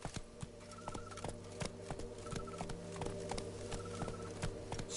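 Roach the horse gallops in The Witcher 3: Blood and Wine, its hooves clip-clopping in a steady, even rhythm over a sustained tonal backdrop.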